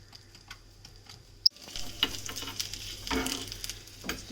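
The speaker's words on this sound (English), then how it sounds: "add the finely chopped ginger first, get fried really well" Finely chopped ginger fries in ghee, a soft close sizzle with light crackles and occasional stirring scrapes, starting after a brief clink.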